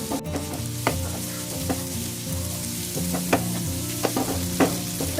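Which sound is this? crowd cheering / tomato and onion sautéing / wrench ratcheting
tomato and onion sautéing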